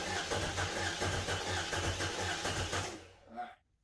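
LT1 V8 in a fourth-generation Chevrolet Camaro cranks over on the starter during a compression test, a steady rhythmic whirring chug for about three seconds before it stops and falls silent.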